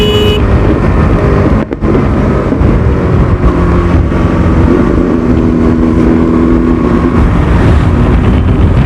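A loud four-cylinder superbike engine roars close by at high revs during a group Sunday ride, a steady sustained howl with heavy wind buffeting throughout.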